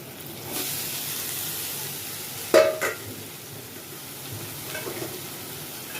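Cooked corn kernels fry in butter with a constant hiss and sizzle, close by, while a spoon stirs and knocks against the pan a couple of times around the middle.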